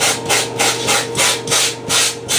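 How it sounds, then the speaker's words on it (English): A small hand sander rubbing back and forth over an RC MD-80 airliner model, close and distinct, with about five even scraping strokes and no talking. "Now I can come in with a little hand sander"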